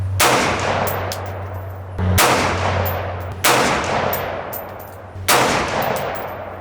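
Four loud rifle shots from a .224 Valkyrie on a target range, spaced roughly one and a half seconds apart, each a sharp crack with a long decaying tail and a steady low hum beneath.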